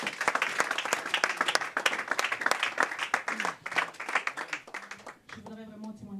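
Church congregation clapping and cheering in praise, dense continuous applause that fades out near the end, with voices talking underneath.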